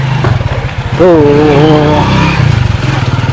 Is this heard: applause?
no